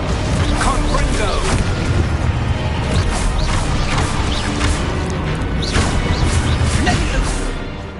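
A Confringo explosive spell blast in a Hogwarts-style video game, heard as dense, loud booming crashes and whooshes over continuous game noise, with a voice calling out spell names.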